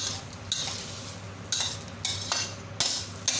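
Spicy Chinese-style tiger prawns stirred in a hot pan with a splash of water, steady frying hiss under repeated scraping bursts of the spatula against the pan, close and fairly loud, no voices.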